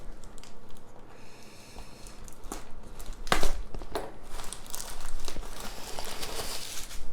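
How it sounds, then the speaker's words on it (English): Plastic packaging of Magic: The Gathering cards being torn open, with crinkling and crackling bursts close up, a sharper rip partway through, and scattered rustling continuing throughout. "Let me just tear this open."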